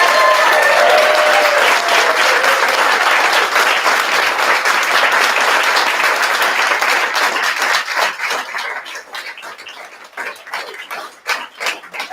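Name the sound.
audience applause at a commissioning ceremony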